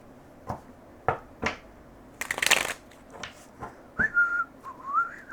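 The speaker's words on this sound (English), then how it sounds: "Sorry, I have no idea why I'm whistling." A short, wavering whistled melody near the end, after several sharp taps and a brief rustling shuffle.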